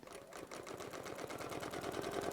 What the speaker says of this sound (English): just begin quilting along the lines of your copied design